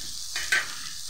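Onions for an egg masala cutlet fry in a pan, a soft steady sizzle with one brief louder scrape of stirring in the middle, close and quiet, without speech.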